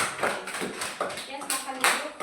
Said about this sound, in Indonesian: Kita tepuk tangan untuk kelompok B.